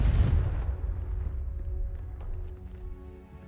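A Confringo blasting spell explodes in a video game, a loud booming burst at the start that rolls off into a decaying rumble over a few seconds.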